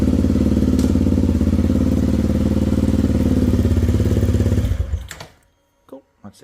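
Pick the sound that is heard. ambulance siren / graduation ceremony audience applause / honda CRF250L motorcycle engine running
honda CRF250L motorcycle engine running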